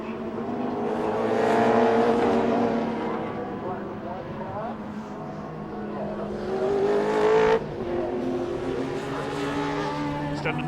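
Classic touring race cars from the Thunder and BOSS classes lap Donington Park, their engines droning and shifting pitch as they pass, with a race commentator talking steadily over the track noise throughout.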